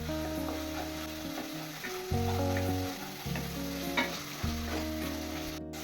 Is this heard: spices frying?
yes